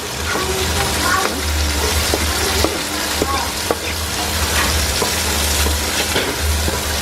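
Garlic and onion sautéing in a pan for chicken sinigang, a constant crackling sizzle with scattered stirring clicks and a low rumble underneath.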